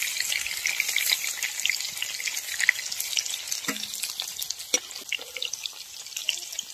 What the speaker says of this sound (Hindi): पनीर को तेल में डाल के फ्राई कर लेते हैं